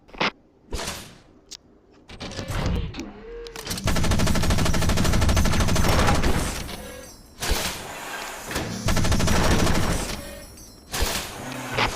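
Machine gun fire in the mech combat game Front Mission Evolved, with loud sustained bursts and rapid clattering volleys separated by short pauses, close and dominant throughout.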